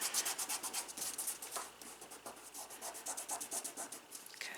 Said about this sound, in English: just rub it good